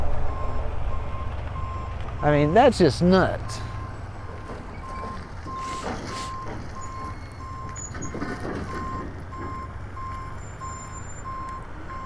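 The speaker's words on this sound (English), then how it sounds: "I'll let this truck go by here." A truck passes close by, its reversing beeper sounding in a steady repeating pattern over a low engine rumble. Someone speaks briefly near the start.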